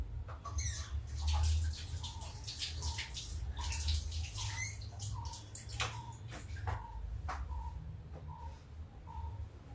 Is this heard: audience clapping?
no